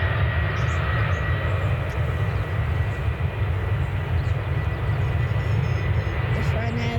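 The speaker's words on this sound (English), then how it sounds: "and it's Boeing 737" A Boeing 737 at Manchester Airport makes a loud, steady, broadband roar with a strong low rumble that holds evenly throughout, with faint talk beneath it.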